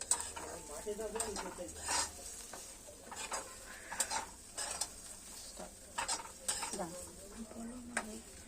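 Rice grains dry-frying and being stirred in a pan while making payasam, with scraping strokes and light sizzle recurring irregularly over a low kitchen background.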